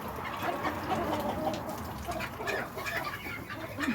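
Backyard chickens cooped up in their coop give soft, overlapping clucks and murmurs against a steady background of rustling and pecking, continuous and fairly close throughout.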